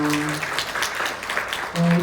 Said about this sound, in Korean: 여러분 다시 한번 박수 부탁드리겠습니다